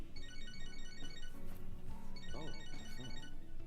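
A phone ringtone in Catherine: Full Body, a looping electronic melody that repeats steadily and fills the whole stretch, with a brief spoken exclamation near the start.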